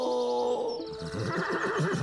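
A horse neighs: a loud, close whinny with a rising, shaky pitch that drops into breathy snorting pulses, heard alone.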